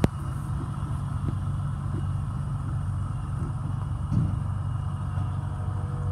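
A 2002 Dodge Ram 1500 pickup with a 4.7 V8 and high mileage idling steadily, a smooth low rumble with an even pulse, close up and constant throughout.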